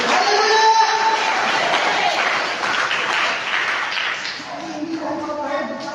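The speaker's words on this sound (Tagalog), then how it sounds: "bigyan natin yung pinakamalakas na palakpak ang dugo ni Kristo." A church congregation applauds loudly and steadily, dense clapping filling the space, with shouts and voices rising over it throughout.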